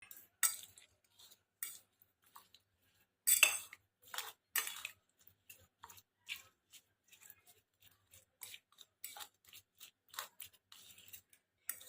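Spiced guava being mixed by hand with beet salt and roasted cumin, soft irregular clicks and scrapes in a quiet room, close and sparse with short pauses.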